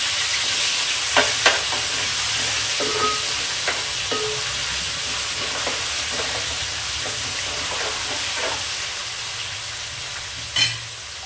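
Ginger and spices fry in a pan with a steady, close hiss, while a spoon scrapes and stirs in scattered clicks throughout.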